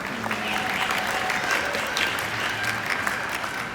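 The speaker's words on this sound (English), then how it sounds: "Let's give her a huge round of applause." An aquarium show audience applauds a volunteer after a seal or dolphin high-jump demonstration, a steady dense wash of many hands clapping that fills the whole stretch without a break.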